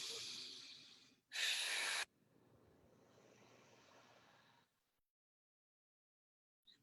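A person takes deep inhalations during a guided breathwork meditation, starting with a long airy breath, then a sharp, loud close intake, followed by a softer sustained inhale that fades into silence.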